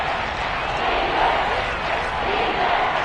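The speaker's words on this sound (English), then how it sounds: "the crowd getting into it as we come up on a big 3rd down" A football stadium crowd at a Seahawks vs Giants game roars before a big third down, a sustained loud mass of cheering and shouting with voices rising and falling throughout.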